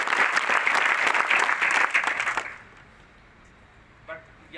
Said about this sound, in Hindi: इस बच्चे के लिए ताली बजाओ सभी